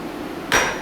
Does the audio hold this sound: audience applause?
no